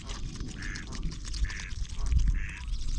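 Duck quacking near the hand at a migratory bird sanctuary as birds are hand-fed, three short nasal quacks in a row over soft outdoor background.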